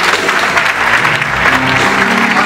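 A church congregation applauding loudly and steadily together in praise, a dense unbroken clatter of many hands lasting the whole moment, with a faint murmur of voices mixed in.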